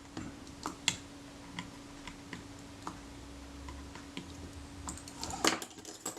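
Nickel plated round-head screws being tightened on a Kodak Retina IIIC camera, faint sparse metallic ticks and small clicks close by over a quiet hum, no talking.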